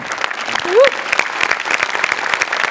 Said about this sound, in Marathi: बाबाजींसाठी एकदा जोरात टाळ्या.